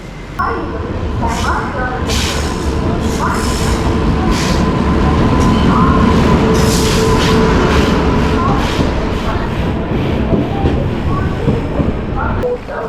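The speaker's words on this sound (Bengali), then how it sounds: "ওইটা হচ্ছে আমাদের ট্রেন দেখুন এক নম্বর প্ল্যাটফর্মে আসবে" A passenger train, the 22675 Chozhan Express, rolls into platform one at a railway station in India, a loud continuous rumble with a steady tonal whine and squealing wheels, under crowd noise and nearby voices.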